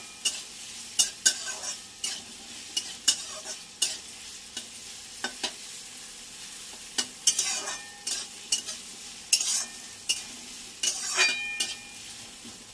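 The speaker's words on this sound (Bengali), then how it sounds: "এটা একটুখানি নেড়ে নিয়ে তারপর বাঁধাকপিটা দিয়ে দেবো" A spoon stirs food frying in a pan before cabbage goes in, with repeated scraping strokes in an irregular rhythm over a soft, steady sizzle, close and without talk.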